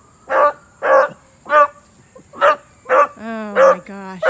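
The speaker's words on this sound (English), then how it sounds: "he's such a hound dog" A hound dog barks and bays indoors in a yard-facing home, with about seven loud, close barks in a steady rhythm, the later ones stretching into drawn-out howling bays.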